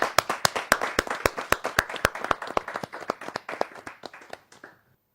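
An audience at a Hindi poetry gathering claps in a brisk, rhythmic burst of sharp claps that thins out and fades to silence after about five seconds.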